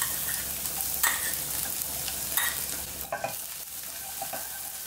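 Minced garlic fries in cooking oil in a pan, giving a steady close sizzle with periodic scraping clicks from stirring, no voices present.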